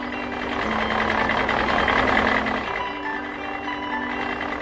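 A cartoon tractor engine drives off toward the field with a steady, moderately loud mechanical drone and sustained tonal hums that shift pitch partway through.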